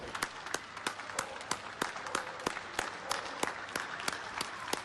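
Applause from balconies in Treviso, Italy, thanking doctors and nurses during the anti-contagion lockdown: many scattered, sharp hand claps ring out steadily from a distance, with a faint crowd murmur beneath.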